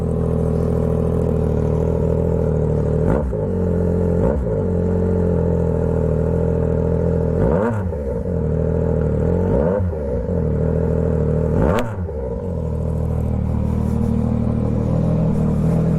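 A Yamaha R9 motorcycle with a tuned DominatoR GP3 exhaust idles loudly and close, with a deep steady rumble broken by about six sharp throttle blips that rise and fall.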